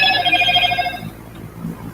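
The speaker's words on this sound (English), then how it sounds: "it just sent out a notification" A phone notification chime rings out in a bright, repeated trilling tone for about a second, then fades into quiet room background.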